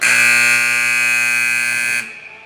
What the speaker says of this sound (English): As the buzzer sounds, we are through 2.